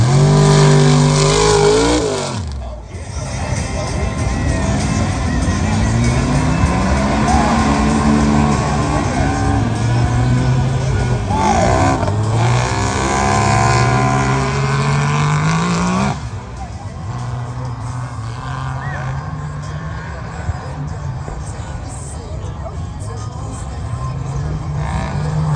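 Mega trucks race at an outdoor event with big tires and a double jump, engines roaring and revving loudly and continuously, with pitch rising and falling as they accelerate, while an announcer talks over the din.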